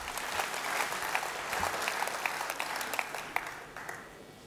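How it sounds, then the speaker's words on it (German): Sustained applause from a crowd at a political citizens' dialogue event in Karlsruhe, with dense steady clapping and scattered sharper claps throughout, fairly distant and filling the room. "Vielen herzlichen Dank für den wunderbaren Applaus hier."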